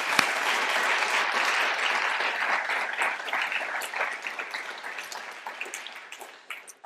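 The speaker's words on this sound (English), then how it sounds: "he deserves a round of applause for this." An audience at a talk on democracy and Congress bursts into applause, dense clapping that starts loud and gradually thins into scattered claps before fading out.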